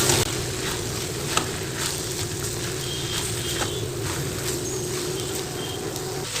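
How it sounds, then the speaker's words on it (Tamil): A spoon stirs tomato rice in a frying pan, with soft scraping and a steady light sizzle running continuously and close throughout. "இப்போ நம்ம சேர்த்து தக்காளியும் சாதமும் நல்லா ஒன்று சேர நல்லா மிக்ஸ் பண்ணி கொடுத்துட்டேன்."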